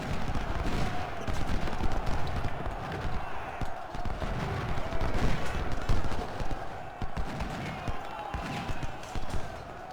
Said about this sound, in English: I have my ordnance shooting at him